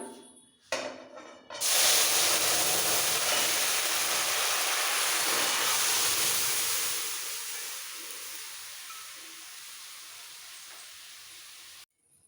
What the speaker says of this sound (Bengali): এর মধ্যে সবজি সমেত ডালটা ঢেলে দেবো